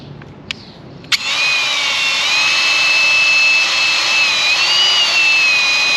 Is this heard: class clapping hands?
no